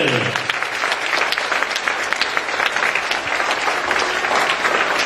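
Sustained applause from a school graduation audience honoring the 2009–2012 graduating class of a secondary school, dense steady clapping filling the whole stretch at even loudness.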